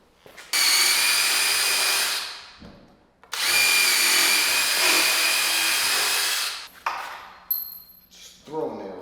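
A power drill whirs loudly in two long bursts, pre-drilling holes and driving screws into wood, followed by short clicks and handling noises.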